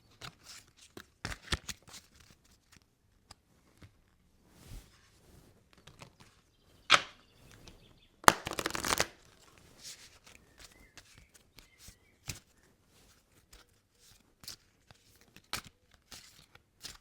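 Tarot cards being handled and shuffled: scattered soft papery flicks and snaps, with a brief denser riffle in the middle, close and quiet against near silence.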